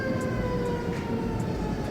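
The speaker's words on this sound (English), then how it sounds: "when a fire truck parks and they keep all their sirens on" A parked fire truck's siren wails steadily at a distance, blended with constant low rumbling traffic noise.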